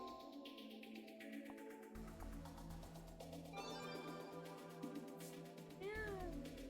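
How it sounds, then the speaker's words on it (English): Faint cat meows in a horror game, a couple of short rising cries toward the end over a layered low droning soundtrack. "Yeah, meow."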